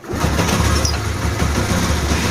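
A Spark 125 4WQ moped engine, its air filter intake pipe cracked, warms up and idles outdoors in below-freezing cold with a steady, loud low-pitched rumble that never pauses.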